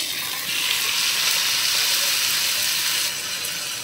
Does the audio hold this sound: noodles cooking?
yes